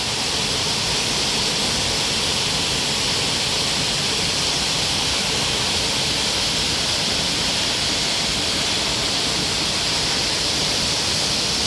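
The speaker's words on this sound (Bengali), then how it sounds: "এটা বামনি ফলস না?" Bamni Falls in the Ayodhya hills roars in a loud, unbroken rush of falling water, close and constant with no other sounds standing out.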